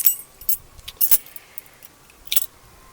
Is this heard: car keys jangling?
yes